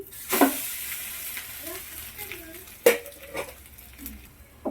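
A bread omelette fries in hot oil in a pan with a steady close sizzle, broken by sharp spatula scrapes and clanks as it is stirred and flipped.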